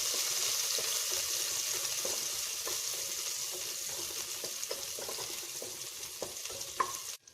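Chopped shallots sautéing in a pan for a Thalassery lunch dish, a continuous soft sizzle with repeated scraping stirs and light clinks of a spoon against the pan, no voices.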